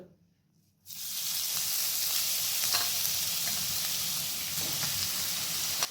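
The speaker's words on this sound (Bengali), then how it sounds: "এরপর ওই কড়াইয়ে যে ঘিটা ছিল তার মধ্যে দিয়ে দিচ্ছি গ্রেট করে রাখা গাজর।" Grated carrots hit hot ghee in a wok for gajar halwa and break into a loud, steady sizzle that starts abruptly after a brief quiet moment and holds evenly to the end.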